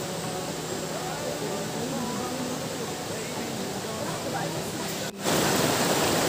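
Water rushes in a steady, broad roar, like a fast-flowing river heard close by, with a brief break partway through.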